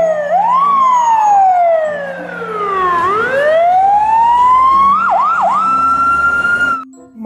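A loud toy fire engine siren wails up and down close by, sweeping slowly, then warbling quickly before cutting off abruptly.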